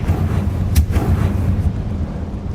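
A Confringo fire spell blasts in Hogwarts Legacy, a loud booming burst with rumbling, explosive low-end impacts that rolls on for a couple of seconds before cutting off.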